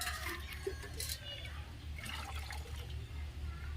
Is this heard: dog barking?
no